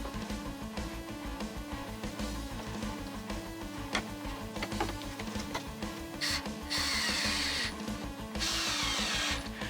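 Power drill driving screws into a clamped wooden end table, a close series of short whirring bursts with clicks and knocks, ending in two longer, louder high-pitched runs.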